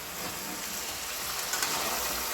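Lamb meat frying in a pan with onion, garlic and salt gives a steady, close, crackling sizzle that holds evenly throughout and grows slightly busier toward the end, with no talking.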